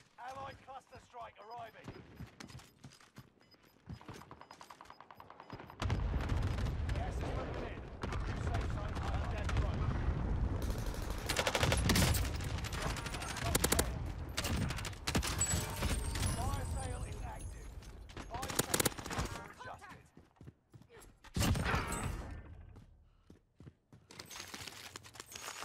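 Gunfire in the Warzone shooter, sharp bursts and scattered shots at varying distance, loudest in the middle section with short pauses, while a player talks over the action.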